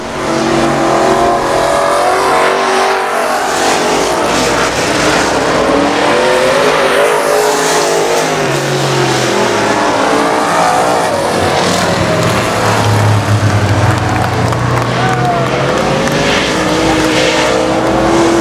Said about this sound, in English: White flag, one lap left for Tommy Grimes in the 22T